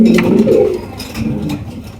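Modena pigeons coo in soft, low, throaty bursts, close by, with a few overlapping calls and faint background murmur.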